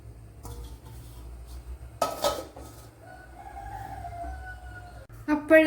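A metal lid clatters onto a cooking pot of ash gourd and okra curry in a home kitchen, a short sharp clank followed by lighter scraping and rattling as it settles, with a voice talking nearby.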